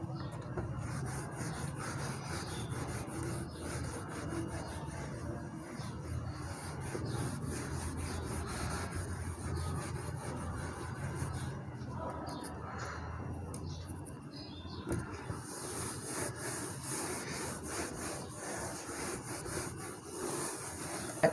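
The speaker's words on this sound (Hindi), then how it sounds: "पहले मैं रब कर देता हूँ इसे।" Writing on a board is rubbed out with steady continuous scrubbing strokes, a soft close rasping texture that runs for the whole stretch with brief pauses.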